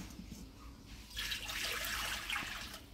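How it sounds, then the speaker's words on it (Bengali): Water is poured into a pot to heat for cooking dal in a home kitchen, a steady close splashing pour that swells partway through. "ডালের জলটা বসিয়ে দিই আগে,"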